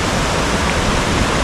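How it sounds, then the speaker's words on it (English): A fast-flowing river on a town outskirt in Bosnia or Croatia, yellowish and running hard, giving a loud, steady broadband rush of water with no break and no voices. "This is the river."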